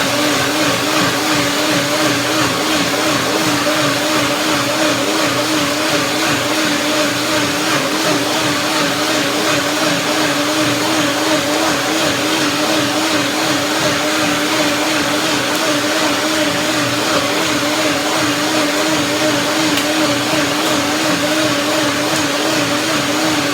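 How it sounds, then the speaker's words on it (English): A kitchen blender whirs steadily, pureeing banana and lemon for an ice cream cake, its motor a loud, even drone with a faint wobble that holds unbroken throughout. "So blender dance again"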